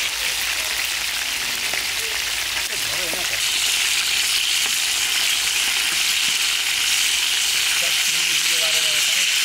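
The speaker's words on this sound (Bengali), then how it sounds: "সুন্দর ভাজা হয়েছে, মাছ ভাজা হয়েছে" Pieces of large catla fish fry in hot oil with a loud, continuous hissing sizzle that swells slightly midway, while a voice murmurs faintly underneath.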